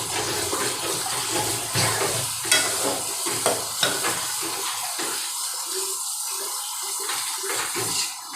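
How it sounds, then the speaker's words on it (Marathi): Water poured into frying chicken curry and stirred, a loud, rushing, bubbling sizzle with scraping spoon strokes that settles into a softer simmer, and no talking. "त्यात घालू आपण पाणी."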